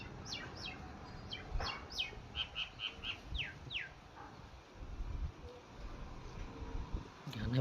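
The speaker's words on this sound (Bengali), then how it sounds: "এখানে ভালোই পায়রা আছে মোটামুটি।" Pigeons at a busy pigeon market, with bursts of bird calls and chirps over a murmur of crowd chatter and handling noise.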